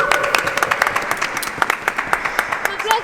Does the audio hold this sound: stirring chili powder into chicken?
no